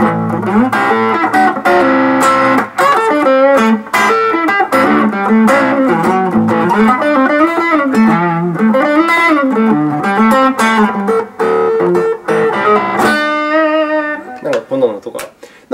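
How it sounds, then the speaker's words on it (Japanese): Electric guitar played through a distortion pedal rings out loud and close, with overdriven melodic lines, sustained bends and chord stabs running continuously, trailing off at the end. "今、いろいろとこの歪みというエフェクターを使っていろんなジャンルを弾いてみましたけれども"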